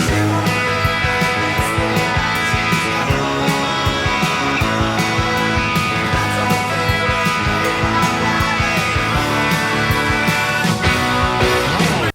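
A full band plays the driving pre-chorus riff of a song, with steady drums and dense, sustained guitar tones at constant loudness throughout.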